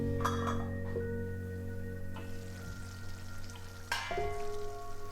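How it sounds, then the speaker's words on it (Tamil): Coriander paste bubbles and fries in oil in a pan at home, a soft continuous sizzle with scattered popping, heard near and steady under a faint electrical hum, with no talk. "அந்த அளவுக்கு நல்லா கொதிக்க விட்டுருங்க."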